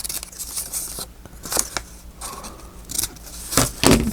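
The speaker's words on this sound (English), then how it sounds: "Trim off those little ends." Scissors snip the small paper ends off a handmade faux-front envelope, a few crisp, close cuts scattered across a few seconds, with no one speaking.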